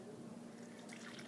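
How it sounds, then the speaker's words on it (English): Three-quarters of a cup of milk poured into a well in flour for cinnamon bun dough, a soft, quiet liquid trickle over a low background hum, short and close. "you're going to pour your 3/4 cup of milk right into"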